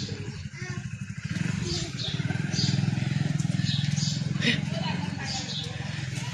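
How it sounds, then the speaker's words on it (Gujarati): A scooter engine putters steadily close by as it pulls in, a low rhythmic hum with people talking over it. "સ્કૂટર આવે"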